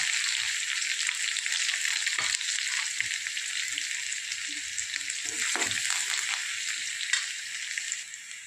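Garlic and curry leaves sizzle and crackle steadily in hot oil with crackling cumin seeds at close range, with occasional light clinks of a utensil against the pan.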